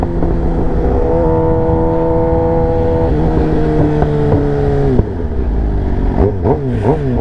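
A Suzuki GSX-R 750 motorcycle being ridden, its engine holding a steady loud drone that rises and falls with gear changes, then revs sharply in several quick surges near the end, with no talking.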